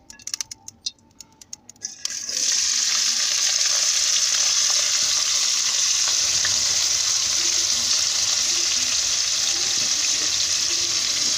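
Two onions hit a cup of hot oil and set off a loud, steady sizzle that holds for about nine seconds after a few faint clinks.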